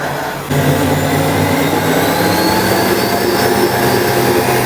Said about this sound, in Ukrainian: Одною рукою держите міксер, другою виливаєте так.